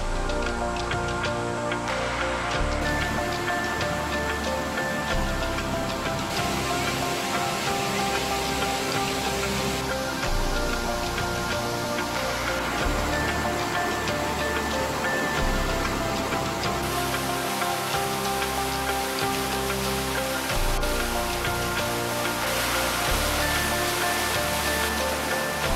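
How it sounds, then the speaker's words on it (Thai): Kuang Si waterfall near Luang Prabang, Laos, roars as a steady, loud wash of falling water, constant throughout with no voices over it. "ท่านผู้ชมนี่คือความอลังการของน้ำตกตาดกวางซี"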